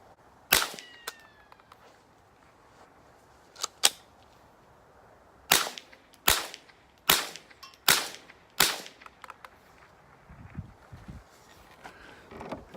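A Marlin 89C semi-automatic .22 rifle fires higher velocity ammunition outdoors in about eight sharp, loud cracks. The shots are irregularly spaced over several seconds, with a few quieter mechanical clicks and rustles between them.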